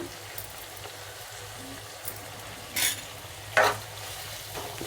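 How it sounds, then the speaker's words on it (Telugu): Sajja pulihora, pearl millet tossed with lemon juice, is stirred in a pan. A soft low sizzle runs throughout, broken by two or three short scraping sweeps of the spoon against the pan. "సరే కలుపుకున్నాము"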